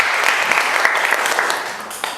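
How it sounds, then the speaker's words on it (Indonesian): A school classroom of students applauding together, a dense wash of clapping that stays steady and then tapers off, with faint voices mixed in beneath it. "kasih tepuk tangan dulu buat kalian semuanya"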